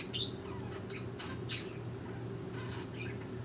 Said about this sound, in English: My birds are going crazy.